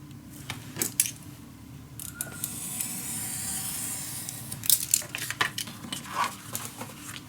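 Scissors snip through paper for a steampunk Christmas box craft. Scattered close cuts and paper rustles surround a smoother swishing stretch in the middle.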